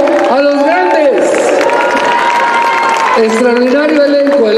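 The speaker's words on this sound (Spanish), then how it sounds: "El aplauso para tributo a los grandes." An audience at a tribute show in Plaza de las Estrellas gives scattered, ongoing applause while an announcer's voice rings out loudly over it.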